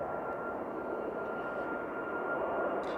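A Ryanair Boeing 737 MAX 8-200 at Manchester Airport gives off a steady, loud jet engine roar that holds evenly throughout, with no voices.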